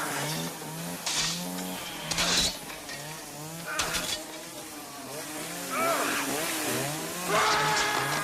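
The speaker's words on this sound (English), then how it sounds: "Dueling chainsaws." Two chainsaws rev and whine against each other in a campy horror-comedy film starring Dennis Hopper. Rising and falling engine snarls overlap in repeated bursts, with buzzing motors surging loudly at intervals.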